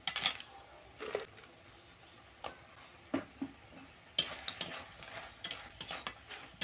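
Grape and tomato chutney stirred in a pan: a faint bubbling sizzle broken by scattered light ticks and scrapes of a spoon against the pan, close but quiet, with no talking.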